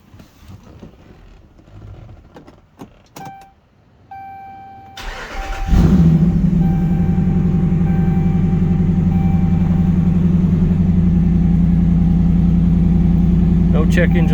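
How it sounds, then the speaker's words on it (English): A Mr Norms Lil Red Truck fires up with a short starter crank, then settles into a loud, steady, rumbling idle. Quiet clicks and chimes come before the start. "Let me fire it up here, see if we can let you hear it run."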